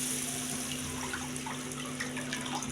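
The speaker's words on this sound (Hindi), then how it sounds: "ये 2 कटोरी भर के इसमें पानी चला जाएगा" Water runs steadily into a cooking pot for rice, a continuous soft splashing stream with a faint steady hum beneath, no voices.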